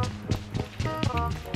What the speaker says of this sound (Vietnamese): Có tiếng bước chân lẹ sao vậy ta?